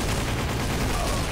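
Automatic gunfire sprays in a gun game match, a short dense burst of rapid, loud shots packed tightly together, close and continuous with no pauses or talking.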